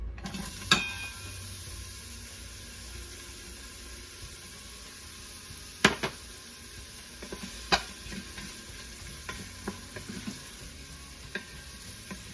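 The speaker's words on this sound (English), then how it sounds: "All right, so my oil is ready. I'm going to add the onions." Onions frying in about a cup of hot oil make a steady hiss and sizzle, broken by a few sharp clinks and scrapes of a utensil stirring in the pan, with no speech.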